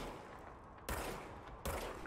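Two sharp shots from a rechargeable gun in the action game Control, fired about three-quarters of a second apart, each a sudden loud crack with a short decay over a quiet background.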